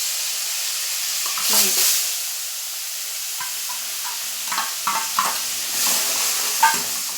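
Onion paste frying in oil with cumin and masala in a pan for shahi bhindi masala makes a close hissing sizzle, with surges as ingredients hit the oil and soft intermittent stirring scrapes.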